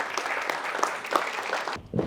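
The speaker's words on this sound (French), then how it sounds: "on peut les encourager, les applaudir" Audience applause fills a church or conference hall, steady clapping from a crowd that carries loudly for nearly two seconds before breaking off, with a brief scattered burst of claps at the end.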